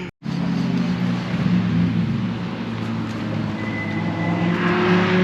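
A 25-plate McLaren supercar at Knockhill circuit roars along the track, engine loud and sustained as it accelerates, heard close up with no talking.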